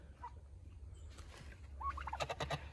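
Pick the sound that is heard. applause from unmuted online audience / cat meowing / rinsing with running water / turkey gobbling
turkey gobbling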